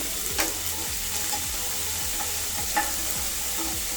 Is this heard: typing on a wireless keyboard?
no